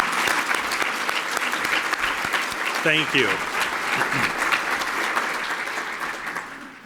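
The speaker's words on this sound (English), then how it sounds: "I think they absolutely deserve a round of applause" An audience at a school district's State of the Schools address gives the district staff a round of applause, a loud, dense, sustained clapping over seven seconds, with a speaker briefly offering thanks partway through.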